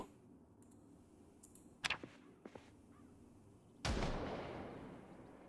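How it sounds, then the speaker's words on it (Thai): In the video game Project Zomboid, a few sharp, distant gunshots ring out over a quiet background, followed by a sustained loud blast of noise that slowly fades. "มีเสียงปืนอีกแล้วอ่ะ"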